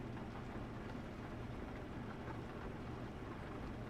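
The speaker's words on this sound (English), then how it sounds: "it's going to rain now." Rain falls on a truck in the driving game Euro Truck Simulator 2 on the road from Hanover to Poznan, heard as a dense, continuous wash of hiss and patter at steady loudness with no voices.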